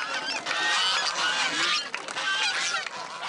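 A flock of geese crosses a bridge at a village show, honking loudly and continuously over the cheering of a noisy crowd.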